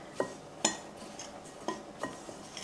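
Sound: zucchini and shredded onions added to pan and stirred

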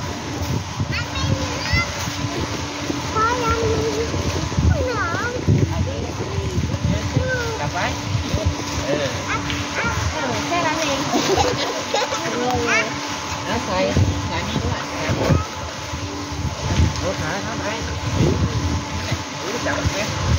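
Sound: children splashing in hotel pool

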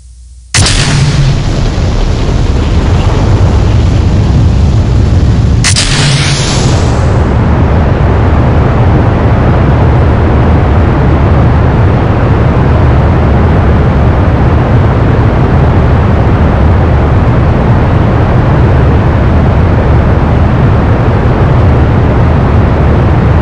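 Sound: rocket launch in the video game Kerbal Space Program

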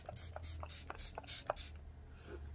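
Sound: Mac Fix Plus setting spray being sprayed

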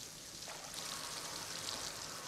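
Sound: waterfall, cartoon

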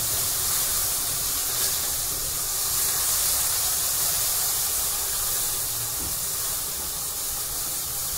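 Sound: masala paste sizzling while frying in oil

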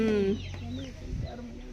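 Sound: chicken clucking

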